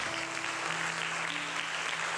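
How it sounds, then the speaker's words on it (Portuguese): A church congregation applauding during a sermon, a steady dense wash of clapping throughout with a faint sustained tone underneath. "Aplauda ao Senhor Jesus"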